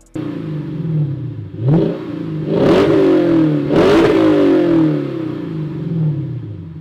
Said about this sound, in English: I cut off the two rear mufflers so it still has the front resonator